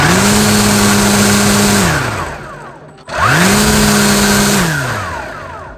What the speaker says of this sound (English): here's the sound test of the AutoCut 25-2 on setting 3, which is the highest setting on the KMA 135R.